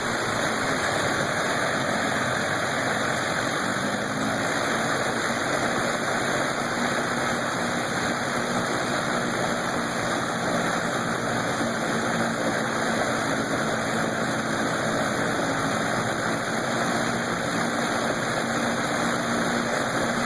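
A vintage Lycoming R680 radial aircraft engine runs steadily at close range, a continuous loud drone with a low throbbing rumble and constant broadband roar for the whole span, with no voices.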